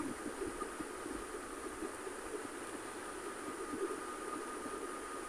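Inside a moving train between Phultala and Mongla, a faint, steady rolling hum with soft rhythmic wheel taps carries on evenly, no one speaking.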